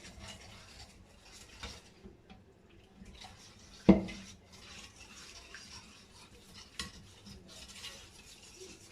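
Brioche batter and milk are mixed in a bowl, with quiet wet stirring and swishing strokes, one louder knock of a utensil against the bowl, and light clinks throughout.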